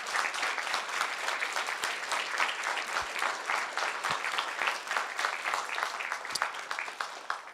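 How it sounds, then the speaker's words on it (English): A live audience at a debate event applauds the debaters. Dense clapping runs continuously, with scattered sharper individual claps standing out, then it begins to thin toward the close. "Let's all give one big final round of applause for our debaters."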